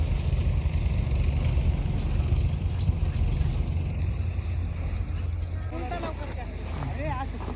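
A tractor engine idles on a dairy farm as fodder is loaded, giving a steady, loud low rumble that softens slightly partway through, with faint voices and clatter near the end.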